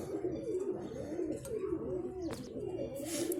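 Pigeons cooing in low, repeated throaty rolls, steady throughout, with a few faint higher chirps from other birds.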